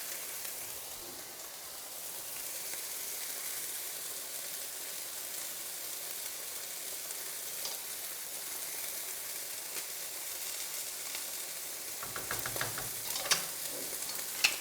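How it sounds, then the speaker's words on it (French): Coquillette pasta cooked risotto-style with leeks sizzles steadily in a pan, with soft scraping and stirring sounds that grow busier toward the end, close and continuous with no talk. "Et on mélange."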